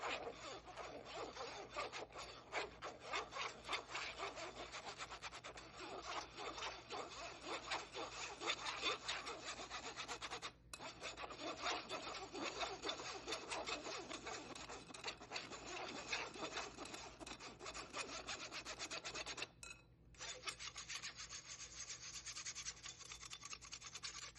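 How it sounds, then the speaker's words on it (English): Cookie ingredients are pushed through a kitchen sifter in a continuous soft scraping and rasping, faint and close, with two brief pauses and no talk. "When you're sifting, you can push the ingredients through using a rubber spatula or a spoon"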